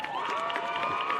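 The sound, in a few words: audience applause at a basketball game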